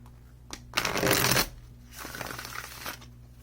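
Cards from a Fountain Tarot deck are shuffled close by in two bursts: a loud riffle of about a second, then a softer, longer riffle. Faint pauses separate them.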